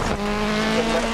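A rally car in the Dirt Rally video game holds a steady, loud engine drone with sliding tire noise during a handbrake skid on a stage in Wales, brief and continuous.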